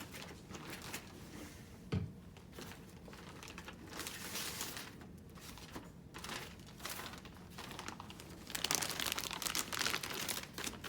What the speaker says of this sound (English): Then I will discard my non-sterile gloves and open my sterile packaging.